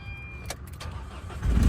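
A 2018 Isuzu D-Max 1.9 Blue Power diesel engine cranks with a few faint clicks, then turns over and catches with a low rumble at the end, fairly quiet.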